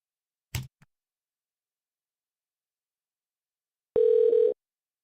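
An outgoing phone call to a cell phone: a click and faint tap, then after a pause a single steady ringback tone lasting about half a second.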